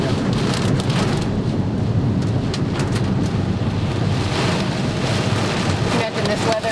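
Heavy rain in a thunderstorm hammers down on a motorway outside Rome, a loud, dense, continuous roar of downpour with wind buffeting close to the microphone.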